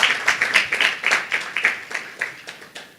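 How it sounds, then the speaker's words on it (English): An audience of lawyers at a Nigerian legal event claps, a short burst of scattered, uneven hand claps fading over a few seconds, with no talk over it. "Please a round of applause for him."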